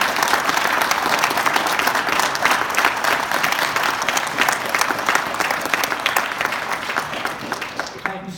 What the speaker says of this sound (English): let's have a round of applause for all of our candidates.